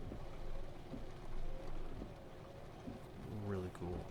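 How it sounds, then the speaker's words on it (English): Steady patter of rain in American Truck Simulator over a low rumbling hum, constant and fairly close. "I love the sound of that rain."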